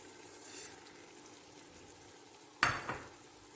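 Spices tossed into tomatoes cooked down in a pan for beef golden pulao, a soft steady sizzle with one sharp clatter and scrape of a spoon or lid midway, quiet and close.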